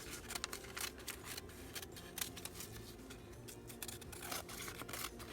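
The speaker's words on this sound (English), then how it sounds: "Now I'm just going to go ahead and go around this and cut the reinforced page off." Scissors cut around a reinforced paper page, producing quiet, close snipping and crisp paper rustles in an irregular rhythm for several seconds with no speech.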